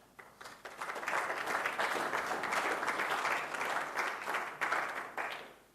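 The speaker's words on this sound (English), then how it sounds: "Give him a round of applause, please." A steady round of applause from a conference audience greets John at a tech event stage, rising quickly and holding at moderate volume, somewhat distant, with a few louder claps near the end.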